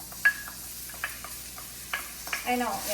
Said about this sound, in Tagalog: Isahin natin ang ating sibuyas. Lagay na natin ang ating bawang.